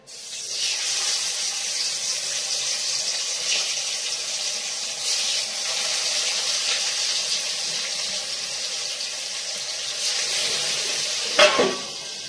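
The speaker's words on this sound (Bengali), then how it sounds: "এই মাছগুলো হেবি ফাটে, ফাট ফাট করে ফাটতে থাকে।" Boal and small fish frying in hot oil with onion and garlic give a steady sizzling hiss that carries on throughout, broken by a sharp, close pop near the end.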